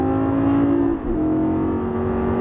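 Race car on a track at full throttle, its engine note loud and close, with a brief dip as it shifts up before the pitch climbs again steadily.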